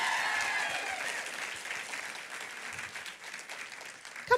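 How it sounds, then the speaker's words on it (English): A live-stream audience breaks into loud applause, dense clapping that slowly fades, with a sharp burst at the very end. "Can y'all clap a little better from that?"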